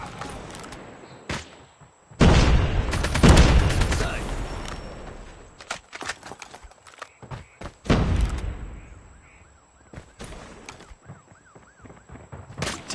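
Video game battle noise from Call of Duty, with a loud grenade blast and several sharp explosive hits and thumps scattered across the clip, separated by quieter gaps, with voices heard between them.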